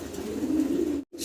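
White Danish pigeons cooing, a low, throaty coo held for about a second up close, then cut off abruptly.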